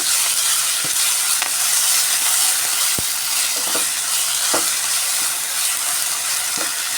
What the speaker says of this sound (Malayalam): ഇഞ്ചി വെള്ളുള്ളി ചെറിയ ഉള്ളി പച്ചമല്ലി ചെറിയ ജീരകം ചേർത്തൊരരപ്പാണ് നന്നായി ഒന്ന് മൂപ്പിച്ചെടുക്കുക